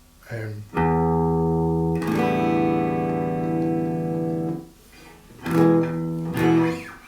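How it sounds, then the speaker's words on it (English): Sustained, buzzy electric guitar tones through a cheap DIY analogue delay pedal, a short echoing repeat smearing the notes, followed by a few brief plucked phrases. "So the analog delay, because it's not just a computer repeating the sound, they don't go quite as long."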